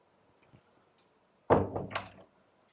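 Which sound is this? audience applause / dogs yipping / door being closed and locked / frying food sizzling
door being closed and locked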